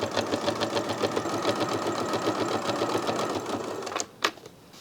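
A sewing machine runs a fast, even rhythm of needle strokes while stitching a quilt-as-you-go panel, close and steady for about four seconds before stopping with a clack.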